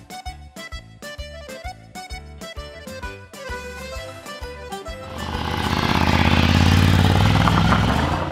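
A Ducati Scrambler Café Racer motorcycle ridden on local trails in Tuscany; its engine noise swells into a loud, steady, close roar during the second half, following a stretch of rhythmic music.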